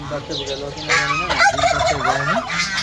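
Turkeys gobble loudly and close by, rapid warbling calls overlapping one another in bursts without pause.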